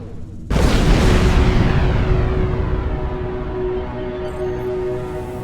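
A large explosion blasting through a hollow asteroid in Star Trek Online, bursting in suddenly and loudly, then rolling into a long sustained rumble with a steady tonal hum underneath.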